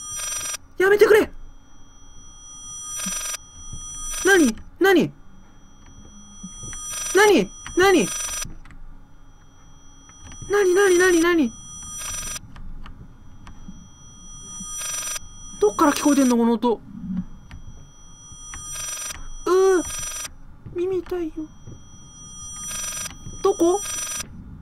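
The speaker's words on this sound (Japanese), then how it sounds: "電話か！" Telephone ringing in the horror video game Layers of Fear, a series of shrill repeated rings in bursts with pauses between, heard alongside a person talking intermittently.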